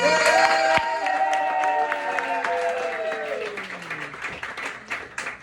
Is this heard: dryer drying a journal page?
no